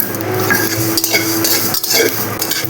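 Spoon gently stirring white and black grains in a dry pan over heat, a steady scraping and light clinking close by with no one talking.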